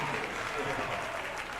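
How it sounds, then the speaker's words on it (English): Fans at a basketball game clap steadily in the gym, a sustained soft patter of applause heard at a distance, fairly even throughout. "And the fans are clapping now."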